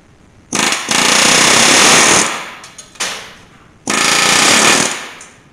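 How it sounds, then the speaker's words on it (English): A pneumatic air chisel with a sharpened old bit cuts sheet metal on an '83 crew cab squarebody truck: a loud, rapid hammering rattle in two long bursts and one short one, separated by brief pauses. "I got this old air chisel bit and this is all I use it for"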